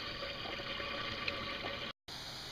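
Water runs out of a beaver pond through a trickle tube, a steady soft rushing flow with a brief dropout near the end, faint and continuous.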